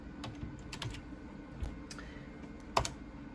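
Keys tapped on a computer keyboard in irregular, quiet bursts of clicks, with one sharper keystroke near the end over a low background hum.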